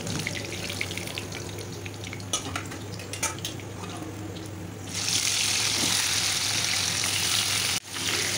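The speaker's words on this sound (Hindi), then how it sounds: "अलट पलट करके इसको भी हम अच्छे से फ्राई कर लेंगे।" Tilapia fish pieces frying in hot oil in a pan, a steady crackle that jumps to a louder, brighter sizzle halfway through, as if the pieces were turned, then cuts out briefly near the end.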